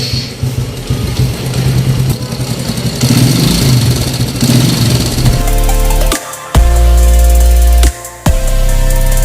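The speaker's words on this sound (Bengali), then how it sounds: "এই বাইকটি আমরা এখন স্টার্ট দিব।" A TVS Radeon motorcycle engine is started and settles into a steady idle, close and loud, with a couple of brief dips in the running sound after it fires up.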